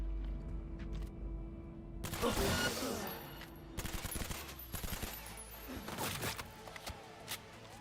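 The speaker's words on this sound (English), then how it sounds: "I don't like shotguns." Video game gunfire, including shotgun blasts, in a chaotic burst of shots and impacts over steady game background noise, fairly quiet overall and without speech.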